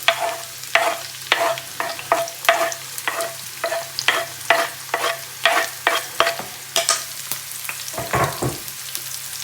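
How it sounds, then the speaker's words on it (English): Leeks and onions soften gently in a pan for an Italian-style garlic soup, a low sizzle under repeated rhythmic scrapes of a spoon stirring, close and steady with no talk. "I'm going to add the leeks and onions and then turn it right down"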